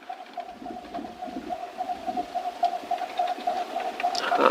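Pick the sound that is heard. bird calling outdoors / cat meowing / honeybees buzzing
bird calling outdoors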